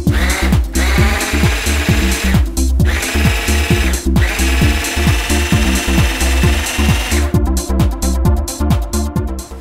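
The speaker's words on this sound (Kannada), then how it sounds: "ಇದು ಎಗ್ ಬೀಟರ್ ಈಗ ಬರೀ ಎಗ್ ಇದು ಮಾತ್ರ ಮಾಡ್ಕೊಬೋದು ಅಥವಾ ಇನ್ನೇನು ಮಾಡ್ಬೋದು?" An electric egg beater running in a home kitchen: a loud, steady motor whine with a fast rattling pulse, briefly cut off and restarted a few times, with no voices.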